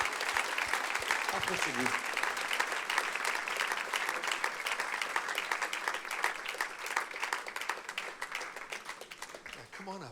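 Congregation applauding at a church service, steady dense clapping throughout, mixed with a preacher and interpreter speaking over it in English and French.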